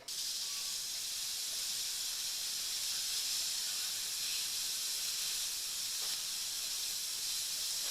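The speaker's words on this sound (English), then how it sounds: "now I press on this button, and you can hear air coming out of here" Air hissing out of the bleed valve of a 1 lb propane tank while it is refilled from a larger tank, a steady, even, close hiss that holds unbroken for the whole stretch.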